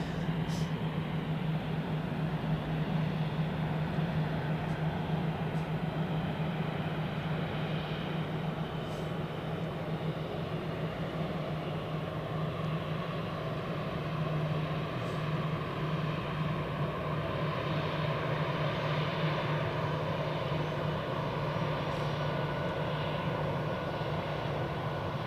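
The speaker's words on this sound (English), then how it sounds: "This is the Swiss A320 to Munich." A Swiss Airbus A320 jet bound for Munich at Zurich Airport gives off a steady, broad engine roar that holds evenly throughout, heard from a moderate distance with no other sounds standing out.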